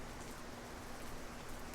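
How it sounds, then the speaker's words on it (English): Rain falls during the rainy season as a steady, even hiss of drops with no breaks, quiet and continuous throughout. "there's a lot of rain happening here"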